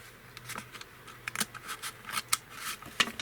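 Scissors snip through paper to cut off a top rectangle for a gift bag journal cover, with a quick string of soft, close, crisp cuts and rustles at an uneven rhythm.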